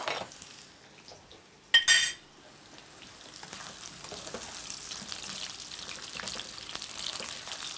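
Potatoes frying in a pan give a steady, soft sizzle that runs on through the clip, broken near the start by a brief, sharp clatter of a utensil against the pan.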